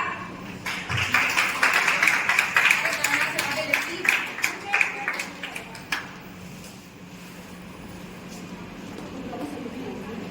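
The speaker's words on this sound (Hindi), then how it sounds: "प्लीज जोरदार तालियां" Audience applause for departing seniors at a college farewell event, a dense burst of clapping that swells for several seconds then thins out, with a crowd murmuring underneath.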